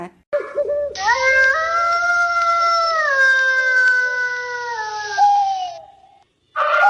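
A dog's drawn-out howl, wavering and sliding downward in pitch as it trails off, sounds loud and near for about five seconds, with no one talking over it.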